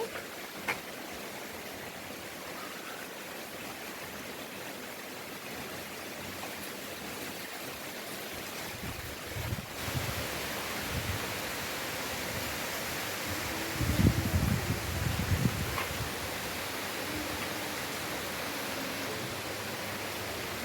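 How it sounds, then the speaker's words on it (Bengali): Rain and wind outdoors make a continuous broadband wash of falling water and gusts, with a few soft low thumps and rustles partway through and no voices. "বাইরে দেখুন বৃষ্টি বাতাস হচ্ছে, তাই ঝড় আসবে মনে হচ্ছে।"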